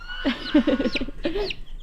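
Close, clear clucking from a chicken, a quick burst of several clucks followed by a couple more after a short pause.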